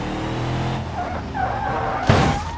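Bootlegger variant of a stock-looking car in BeamNG.drive, with a slightly upgraded engine, heavy-duty suspension and a blacked-out look, driving with a steady engine drone, rising tire squeal and a sharp skid burst near the end.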